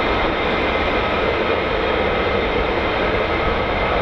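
An F-35A fighter jet gives a loud, continuous, broadband engine roar that holds steady throughout, with no voices.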